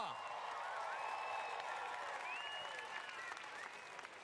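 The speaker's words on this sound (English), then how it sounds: "Crowd, I need some more cheers." A large crowd in Margaret Court Arena applauds and cheers. Dense clapping and scattered whoops run steadily throughout, loud at first and easing slightly toward the end.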